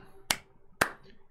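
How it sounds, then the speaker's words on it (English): Two sharp, close hand claps about half a second apart, crisp and isolated against quiet background. "Intro clap."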